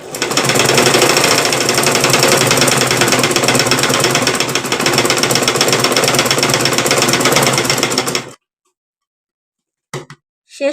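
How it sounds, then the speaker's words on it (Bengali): Sewing machine stitching two pieces of fabric together, a fast, loud, steady mechanical whirring and clatter for about eight seconds that stops abruptly, followed by silence and a couple of brief handling sounds. "দেখুন একই দূরত্বে আমি কাপড়টা রেখে সেলাইটা দিয়ে নিচ্ছি।"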